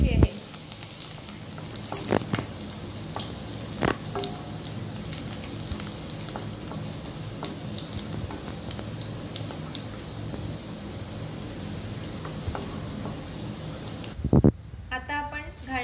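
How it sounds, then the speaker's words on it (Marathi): Chopped garlic sizzles in hot oil in a pan for prawn curry, a low, steady crackle with scattered sharper pops and occasional stirring knocks, ending in a brief louder clatter. "लसूण मऊ होईपर्यंत तेलात परतून घ्यायची आहे।"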